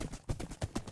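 Horse hooves clip-clopping while riding in Minecraft, a short burst of about four quiet, evenly spaced hoof thuds near a river, no talking.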